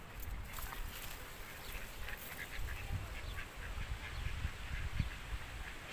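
Ducks in a park in Spain, several quacks and honking calls scattered over a low outdoor background, moderately distant and fairly faint, with no clear talk.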